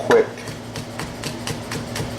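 Fresh garlic minced on a board with a hammer, a steady series of light, rhythmic tapping knocks at close range over a faint low room hum.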